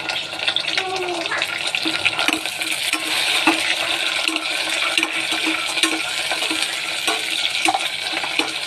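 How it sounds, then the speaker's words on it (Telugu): Tomatoes going into fried onions in a pan for vegetable biryani: a steady, close sizzle with scattered scrapes and clinks of stirring throughout. "ఇప్పుడు ఆనియన్స్ బాగా ఫ్రై అయ్యాయి కదా, ఇప్పుడు టమాటో వేసుకోవాలి"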